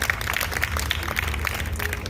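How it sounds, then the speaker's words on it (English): Audience at an outdoor vegetarian festival clapping for volunteers, a dense, steady patter of many hands at moderate distance, continuous throughout without voices on top. "So let's give a round of applause to our volunteers."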